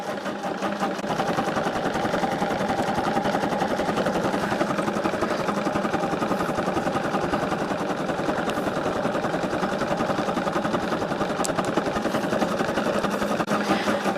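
An embroidery sewing machine runs steadily for the whole stretch, giving a dense, even mechanical hum and rapid stitching rattle at constant loudness, with no pauses.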